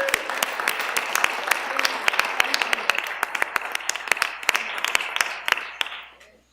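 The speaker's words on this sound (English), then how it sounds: "Let's give them another round of applause." A board of education meeting audience gives a round of applause for young students, close and steady clapping with sharp individual claps standing out, some chatter beneath, fading away at the end.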